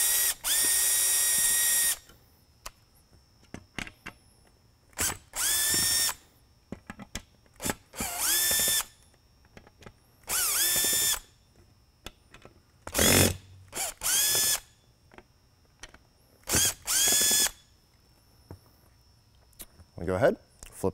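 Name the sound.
power screwdriver removing Phillips head screws from a lightbar module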